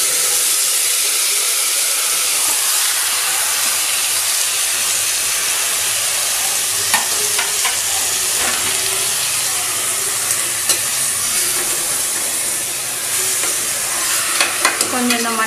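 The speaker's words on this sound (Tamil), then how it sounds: "கொஞ்சம் இந்த மட்டனை இந்த எண்ணெயில் வந்து வதக்குங்க." Minced mutton sautés in hot oil in a pan for Madurai-style keema urundai, making a loud continuous sizzle and hiss with scattered stirring scrapes and pops.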